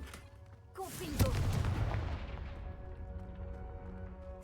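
A Confringo fire spell blast in the Hogwarts Legacy video game: a single sudden explosive burst that rumbles and fades over a few seconds, heard alone at moderate distance.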